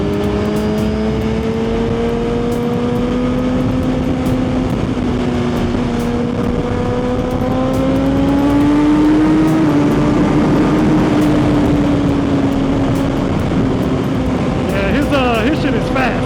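A Suzuki GSX-R1000 motorcycle engine revs up and down in long, sweeping rises and falls of pitch. The engine is loud and steady throughout, with a rougher burst of revving near the end.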